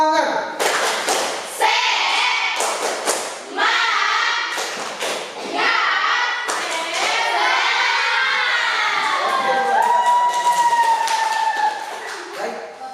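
High school students in a class perform a rhythmic spirit clap, with sharp bursts of patterned clapping and children's shouts, followed by loud group chanting.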